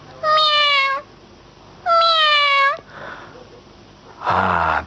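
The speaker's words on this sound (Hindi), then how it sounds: "देखिए इधर ये एक छोटी सी म्याऊ बिल्ली भी" A small cat gives two clear, drawn-out meows close by, with a short gap between them, followed by a brief muffled rustle and a louder burst of noise at the end.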